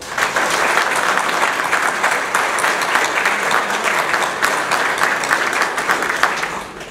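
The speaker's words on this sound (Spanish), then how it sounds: "les pido a ustedes que los premiemos con un fuerte aplauso" An audience at the closing of a tax tribunal event applauds the speakers with a loud, sustained wash of clapping that holds steady before tapering off at the end.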